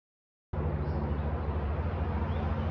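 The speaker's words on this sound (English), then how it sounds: "Well, you can hear all the cars in the background." Steady broadband traffic rumble from cars on a nearby road, heard beside a hiking trail at Swatara Gap along the Appalachian Trail; a constant wash of passing vehicles begins abruptly and continues evenly with no talk.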